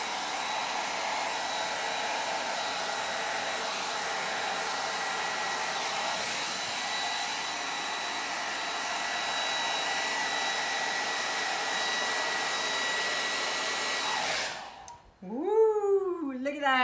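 A hair dryer blows steadily on acrylic paint across a large canvas during a Dutch pour, a loud continuous whoosh with a faint whine, cutting off near the end as a voice speaks briefly.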